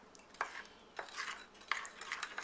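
A spoon stirs a sauce of ketchup, oyster sauce and sugar in a bowl, giving soft, rhythmic scraping swirls with a few light clinks, fairly quiet and close.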